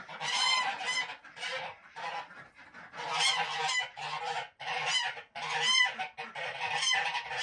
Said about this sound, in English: Here come the ducks. And the geese are getting mad.